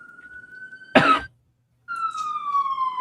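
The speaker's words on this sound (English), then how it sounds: "the siren out outside my door here" A siren wails steadily outside a home doorway, its tone rising and holding loud, broken by a short cough and a moment of silence before it returns.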